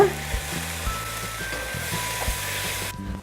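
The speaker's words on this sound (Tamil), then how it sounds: "தக்காளியை நல்லா வதக்கி விட்டுருங்க" Steady sizzling of tomatoes sautéing in a hot pan, a continuous crackling hiss with faint music and tones in the background.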